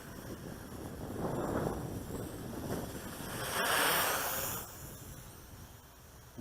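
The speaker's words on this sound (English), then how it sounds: "It's really windy right now." Strong wind gusts outdoors, roaring and buffeting the microphone in broad, surging waves that swell and ease with no one speaking.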